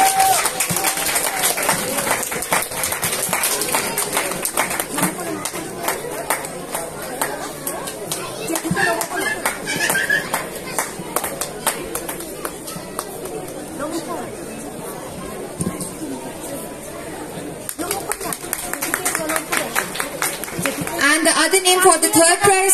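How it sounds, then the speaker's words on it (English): Audience applauding children at a Durga Puja prize distribution, steady clapping mixed with crowd chatter and hubbub lasting over twenty seconds, with people talking throughout. "huge round of applause for the kids"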